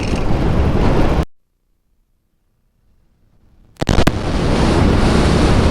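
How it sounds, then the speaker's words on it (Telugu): Strong wind buffets the microphone with a loud, roaring rush in the open mountains, cuts to near silence for a few seconds, then bursts back with gusty crackles and continues. "ఫుల్ గాలి వస్తుంది."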